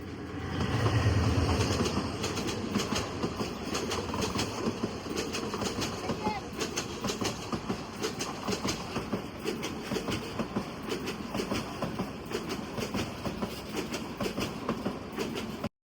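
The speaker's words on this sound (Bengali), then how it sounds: "সিগন্যাল ক্রস করে ট্রেন আবারও তার আপন গতিতে ছুটতে থাকে।" On board the Tista Express from Dhaka to Dewanganj, the train runs along the rails with a continuous low rumble and a rapid, regular clickety-clack of the wheels over the track joints.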